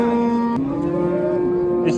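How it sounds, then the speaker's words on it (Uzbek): Cow at a livestock bazaar in Jizzakh, giving one long sustained low moo that bends slightly in pitch, close and loud against faint market background. "Tug'an sigir ekan."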